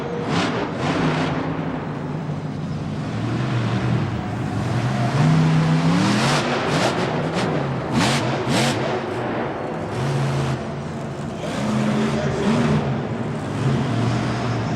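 Madusa monster truck's engine roars loud and close during a jump run, revving up and down with rising and falling pitch and no talk over it.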